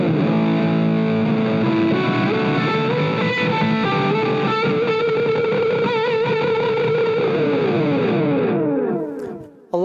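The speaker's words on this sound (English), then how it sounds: "And now let's add some distortion on top of that." An electric guitar run through a Peavey AmpKit LiNK with delay and distortion rings out in sustained, overdriven chords and notes with trailing echoes, loud and close, fading out at the end.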